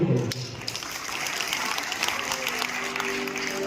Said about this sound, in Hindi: एक ताली बजाओ